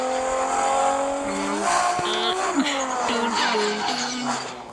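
A car drifting, with a loud revving engine whose pitch climbs and drops through gear changes, alongside tire squeal and skidding, close and prominent throughout.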